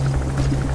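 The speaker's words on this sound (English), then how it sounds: "that chopper's gonna be bad news" Helicopter in Metal Gear Solid V: The Phantom Pain, a steady loud rotor drone with a low throbbing hum filling the short moment, no talking over it.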